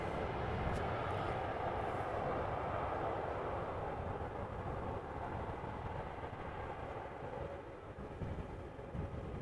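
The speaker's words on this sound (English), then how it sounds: "That is Pegasus A321 Neo arriving from Istanbul," A Pegasus Airbus A321neo arriving at Amsterdam Schiphol produces a continuous low jet rumble, distant and even, slowly easing off over several seconds with no voices over it.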